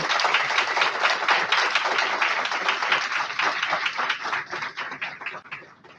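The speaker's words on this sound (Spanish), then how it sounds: "vamos a darle un aplauso a todos ellos" A conference audience applauds together, a dense, steady wash of many hands clapping that holds for several seconds and then thins toward the end.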